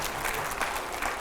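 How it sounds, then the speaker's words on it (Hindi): A studio audience gives brief, steady applause during a political discussion with editors: an even wash of clapping at moderate level with no voices over it. "जोरदार तालियां हो जाए जरा"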